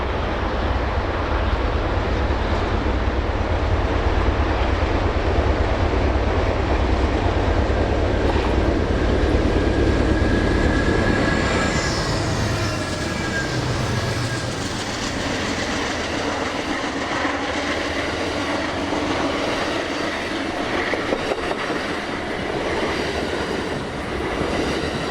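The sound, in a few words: Union Pacific train with 1927 Pullman car on Donner Pass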